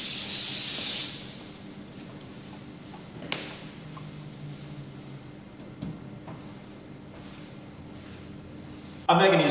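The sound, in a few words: spraying solvent cleaner on a surface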